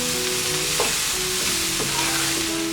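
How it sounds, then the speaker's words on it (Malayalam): Sautéed broccoli is stirred in a hot pan, producing a steady, close sizzle with a few brief scraping strokes. A tonal background track runs beneath it and no one speaks. "ബ്രോക്കോളി ചേർത്ത് എല്ലാം കൂടെ നല്ലപോലെ ഒന്ന് മിക്സ് ചെയ്ത് യോജിപ്പിക്കണം"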